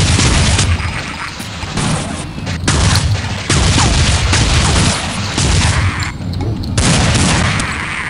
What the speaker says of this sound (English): I'm gonna take out the rest of them with a shotgun.